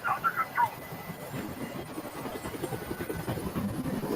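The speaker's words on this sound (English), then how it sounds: "Tell that helicopter to get out of here." Helicopter rotor noise from the video game Detroit: Become Human, a steady low thumping drone running throughout at moderate level, with a few brief higher tones early on.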